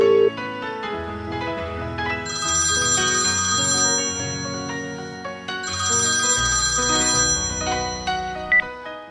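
A telephone ringtone plays loud and continuous, a repeating electronic melody in two long ringing bursts with no talk over it.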